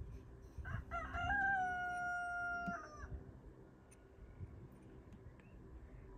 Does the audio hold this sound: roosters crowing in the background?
yes